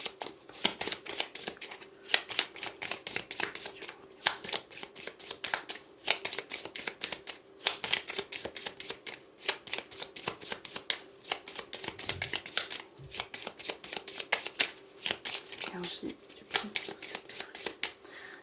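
Tarot cards are shuffled by hand, giving repeated quick papery riffles and soft flicks in irregular bursts, quiet and close.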